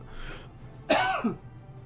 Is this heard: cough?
yes